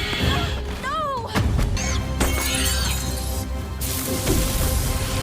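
Glass shoes shatter in a fantasy musical film scene: a sharp, bright crash bursts out amid music, whooshing effects and voices, followed by lingering tinkling debris.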